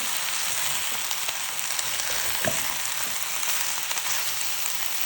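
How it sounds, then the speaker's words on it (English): A spoon stirs veggie pasta with parsley and a spice blend in a pan, giving a soft continuous sizzle with faint scraping and light clinks, close and steady without speech. "Everything is being mixed together."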